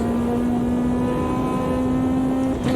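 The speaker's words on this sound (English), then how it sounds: "Too eager to get that turbo whining." A turbocharged race car in Automobilista 2 holds a steady, droning engine tone with a high whine layered over it. The sound stays loud and constant, then wavers briefly near the end.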